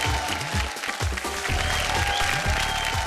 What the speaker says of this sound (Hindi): तो जोरदार तालियों से स्वागत करें सतीश जी के